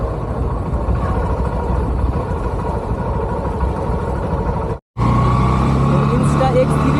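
Motorcycle engine while riding, a steady close rumbling drone that holds throughout, with a short cut near the end before the engine sound resumes. Someone talks over it.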